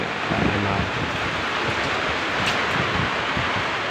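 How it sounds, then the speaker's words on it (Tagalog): Heavy rain pours steadily in Batangas during a typhoon, a dense, even roar of water that fills the whole scene without pause. "napakalakas ang ulan ngayon"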